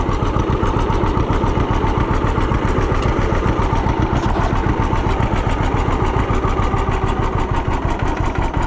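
An engine idles steadily during storm cleanup and fence work, a loud, close, rapid even chugging that holds the same rhythm throughout with no talking.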